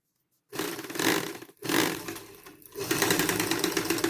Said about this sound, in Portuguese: para nós ir na máquina passarmos uma costura aqui